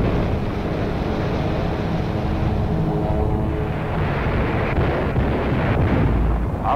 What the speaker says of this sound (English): the fantastic spectacle of bombs and fire